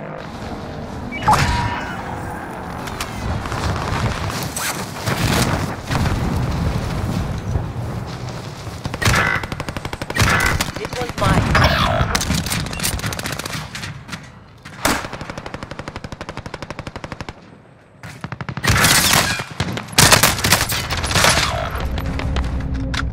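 Gunfire in Call of Duty Modern Warfare: repeated loud bursts of automatic and single shots with booming impacts, rising and falling through a long stretch of combat.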